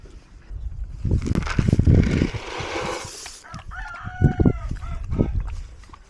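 A rooster crows loudly nearby, a long strained call, followed by softer clucking and other fowl sounds.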